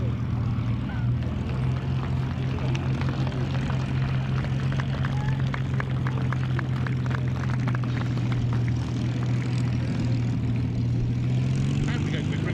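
A Hawker Hurricane propeller plane flies at the Duxford Battle of Britain airshow, its engine a steady droning roar that shifts slightly in pitch as a commentator speaks over the public address.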